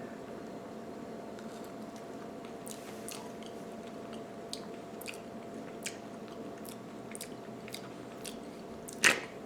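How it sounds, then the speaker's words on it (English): Fresh bergamot rind bitten and chewed close up, soft wet crunches and squishy mastication repeating irregularly over a low background hum, with a sharper bite near the end. "So I'm going to try a little bit of the rind also, just like on its own."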